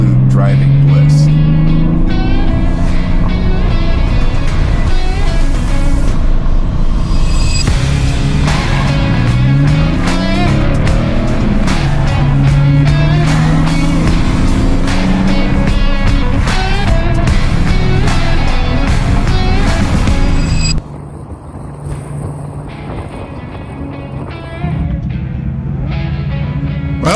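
A Porsche 993 4S carving through twisty canyon roads, its engine rising and falling in pitch as it accelerates and shifts, loud and close, with someone talking over it before it quietens near the end.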